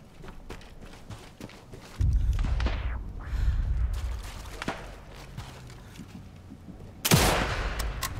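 Gunfire in the PS5 video game Sniper Elite 5 during an online multiplayer match: a few sharp, loud shots stand out over quieter distant pops and rumbling game ambience.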